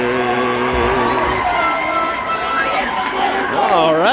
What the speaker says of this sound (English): Very patriotic crowd on hand here.